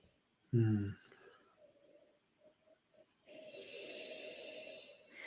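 A sharp nasal sniff up close at a whisky glass, followed by a few soft breaths and a quieter drawn-out inhale through the nose.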